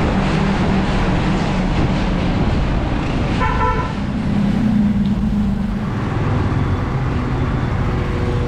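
Traffic in Coron with car horns honking, a dense roar of engines and road noise and a clear horn toot midway, loud and continuous, with no voices.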